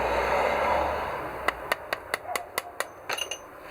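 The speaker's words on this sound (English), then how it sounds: "just get a hammer and just tap these" A hammer taps out a metal brake pad pin on a Royal Enfield motorcycle's Pricol front caliper about a dozen times in a quick, fairly even rhythm, sharp and close, after a moment of broad background noise.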